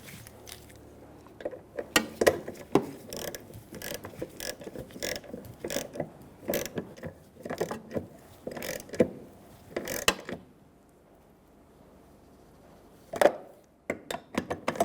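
Bolts on the fuel pump of a 2000-2007 Ford Taurus 3.0L V6 are tightened with a ratchet, which gives repeated bursts of close metallic clicking with short pauses and a quiet stretch near the end.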